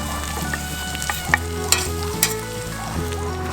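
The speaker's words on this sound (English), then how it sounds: "so get a good brown to the onions" Onions browning in a frying pan give a steady close sizzle, with a few sharper scrapes and clicks of stirring over a low background hum.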